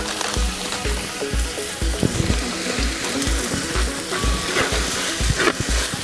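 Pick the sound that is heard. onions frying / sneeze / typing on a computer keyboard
onions frying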